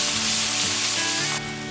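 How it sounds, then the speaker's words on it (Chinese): Chopped chili sauce stir-frying in a little oil in a wok, a loud steady sizzle that drops in level near the end, with no talking. "鍋中留滴油，下剁椒醬，少許翻炒"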